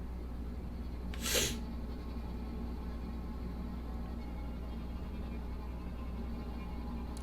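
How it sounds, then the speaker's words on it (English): One short, sharp sneeze from a person indoors, a brief burst standing out over a steady low hum, with nothing else notable around it. "Oh, I gotta sneeze."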